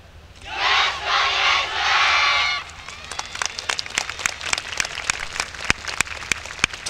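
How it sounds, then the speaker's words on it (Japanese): A YOSAKOI Soran dance audience gives a loud burst of cheering and applause, then settles into sharp, evenly spaced rhythmic hand claps clapping along with the performance. "手拍子等で応援よろしくお願いします。"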